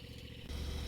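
A neighbor's tractor engine plows snow along a quarter-mile driveway, a steady low mechanical drone that grows suddenly louder and closer halfway through and holds there, with no talk.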